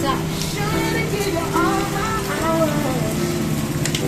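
Steady rain falls over an outdoor neighborhood fish market in the Philippines, a soft constant hiss under people talking nearby.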